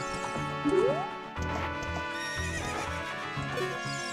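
A horse neighs loudly over a rhythmic clip-clop of galloping hooves in the video game Ocarina of Time, with game music playing underneath throughout.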